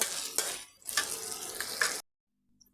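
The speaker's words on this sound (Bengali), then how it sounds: "এই গোবিন্দভোগ চাল তেজপাতা এই সব কিছু ঘিয়ের সঙ্গে ভালো নাড়াচাড়া করে আমি কিছুক্ষণ ভেজে নেব" Gobindobhog rice and bay leaf fried in ghee, a close sizzle with the scrape and clink of a spoon against the pan as it is stirred, cutting off to silence after two seconds.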